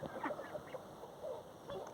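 A small group of ducks, a drake and a hen among backyard fowl let out in the morning, giving faint, scattered quacks from a distance.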